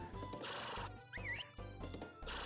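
Horse neighing during a race in Harvest Moon: Grand Bazaar, several loud whinnies rising and falling in short bursts, separated by brief gaps, with a rhythmic clip-clop of hooves underneath.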